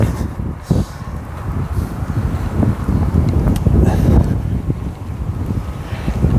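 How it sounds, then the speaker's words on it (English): Gusty outdoor wind buffets a microphone with loud, low, uneven thumps and roaring bursts that rise and fall throughout. "sorry about the wind, guys. It's a bit windy today"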